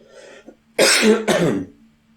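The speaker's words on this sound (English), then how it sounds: "I'm coughing so much, hopefully it's not coronavirus" Two harsh coughs in quick succession, close and fairly loud, following a brief throat-clearing.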